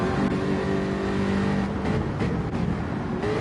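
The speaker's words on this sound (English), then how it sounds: "with this one you can actually hear the supercharger" Supercharged Jaguar race car engine with a supercharger whine, a loud continuous engine roar holding steady, with a rising tonal whine layered through it.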